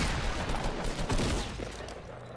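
Video game gunfire aimed at the player, a dense, continuous burst of close shots rattling steadily for a couple of seconds with no pauses.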